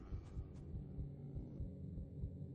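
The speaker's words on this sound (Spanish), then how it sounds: "Escucho ahí los latidos de mi corazón." In the Betrayer video game, a heartbeat thumps low and muffled in a steady, slow pulse over a faint hum, with no voices.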